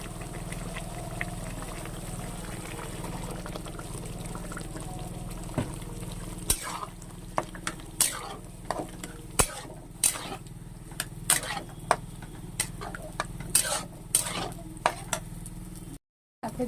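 Boiled taro being stirred into a cooked-down spice masala in a pan, a low frying sizzle with a run of sharp scraping and clinking strokes in the latter half, ending in a brief cut to silence.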